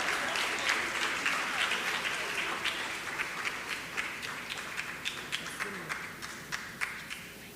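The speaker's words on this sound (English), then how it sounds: "Please keep the applause coming as Elijah Clark comes to deliver his speech." Sustained applause from an audience at a primary school graduation ceremony, many hands clapping steadily and evenly throughout, with a few louder individual claps standing out.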